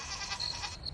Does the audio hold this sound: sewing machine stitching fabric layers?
no